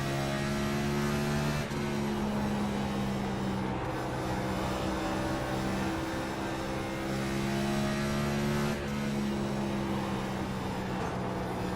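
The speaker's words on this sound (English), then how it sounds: "At 66 is the fastest car on the racetrack." A NASCAR Cup race car laps the short oval at Bristol, its engine droning loud and steady with pitch sweeps as it passes, and a second surge swells near the end over a continuous roar.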